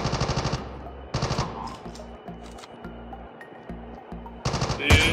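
Rapid bursts of automatic gunfire in a first-person shooter match, loud and close, in several rhythmic volleys separated by brief pauses over a low game soundtrack.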